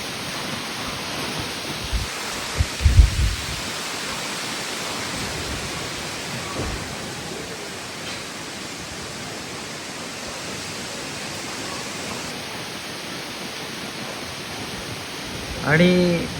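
Strong gusty storm wind sweeps across a terrace in coastal Konkan, Malgund, thrashing the trees in a steady broadband roar with a few brief thumps and no voices.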